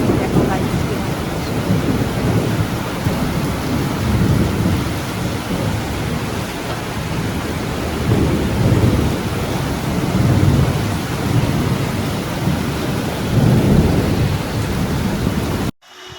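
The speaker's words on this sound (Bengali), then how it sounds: "বাইরে মারাত্মক জোর বৃষ্টি পড়ছে এবং বাজ পড়ছে" Torrential rain pours down outside onto an empty road, a loud continuous roar broken by deep rolling thunder, with some wind buffeting the microphone before it cuts off abruptly.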